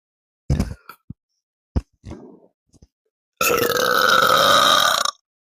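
A few short gulping burps, then one long, loud, drawn-out belch close up, each separated by brief silence.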